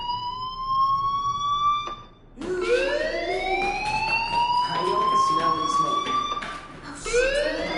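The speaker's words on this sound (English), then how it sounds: "Hey, do you hear that fire alarm?" A fire alarm in the video game Life is Strange wails continuously and loudly, a steady rising and falling siren tone that briefly dips and then resumes.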